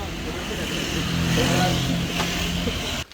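Motorcycle engines rumble steadily while riding toward Hiri Katu Oya in Sabaragamuwa, Sri Lanka, a continuous drone with faint voices underneath, cutting off abruptly at the end.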